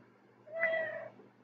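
A single pet cat meows once, a clear, drawn-out mid-pitched cry of about half a second rising over a low steady room hum, close by and alone with no talk.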